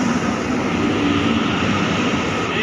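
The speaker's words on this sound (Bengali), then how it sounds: "আর ট্রেন এখনই চলে আসবে" Train arriving at a station: a loud, continuous rumbling roar, steady and close throughout, with no voices.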